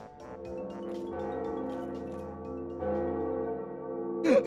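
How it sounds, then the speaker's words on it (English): Bell ringing in the Dark Souls video game, a sustained resonant tolling with long ringing overtones, swelling again midway and ending in a brighter metallic strike, heard alone without talk. "I rang one of the bells!"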